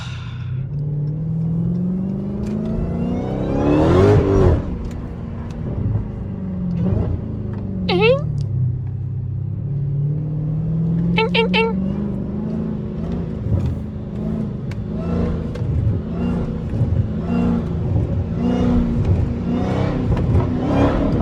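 A loud Dodge Hellcat engine revs and accelerates on wet roads, rising and falling in pitch through several pulls with a rumbling exhaust, with a voice speaking over it at times.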